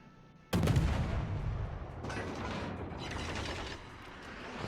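Heavy naval gun salvos boom in World of Warships, a sudden loud blast followed by rolling rumble and further overlapping shots in a sustained barrage.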